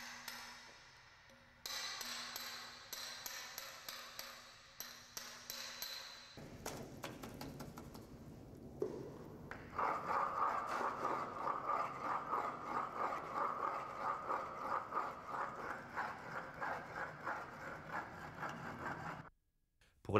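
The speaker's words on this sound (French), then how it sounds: "la finition s'effectuait à l'aide de gradines plus fines et parfois on polissait la surface" Stone carving with chisels and finer claw chisels on a surface: rapid series of light metallic taps and pings, steady rhythmic strikes that grow denser and louder midway, close and clear without talk, ending abruptly.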